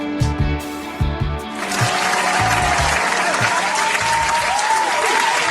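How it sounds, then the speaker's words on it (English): Loud applause from a gathered crowd swells after a brief quieter start and holds as a dense, steady roar of clapping, with faint voices mixed underneath. "Round of applause from Miss Rochelle, man."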